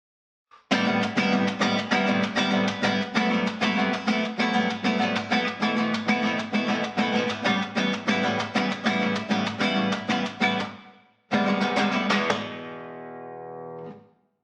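Classical guitar plays the final passage of Ginastera's Guitar Sonata fourth movement, a rapid, steady run of plucked notes, pauses briefly, then ends on a ringing final chord that fades out.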